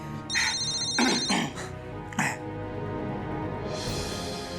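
A telephone rings in a Hindi TV drama scene, two short bursts of bright electronic ringing followed by a slight throat sound, then quiet room tone, with no speech.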